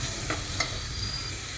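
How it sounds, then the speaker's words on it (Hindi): Ground spices including red chili, Kashmiri red chili and coriander powder fry and get stirred in a pan for a potato and soybean curry, a short burst of close hiss with a couple of soft scraping strokes. "सारे मसाले को अच्छे तरीके से भून देंगे।"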